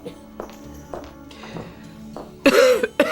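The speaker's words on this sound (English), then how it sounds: "She coughs again, quite uncontrollably." A woman coughs in harsh repeated bursts, several loud fits clustered toward the end after quieter throat sounds and shuffling, close and unaccompanied by talk.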